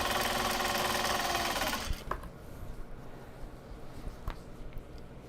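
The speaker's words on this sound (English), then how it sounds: "I wonder if the sound of like the sewing machine is like comforting to them or not." A sewing machine stitches the end seam of a small box bag, a loud, rapid, steady mechanical whirr for about two seconds, then it stops, leaving faint clicks and handling noises.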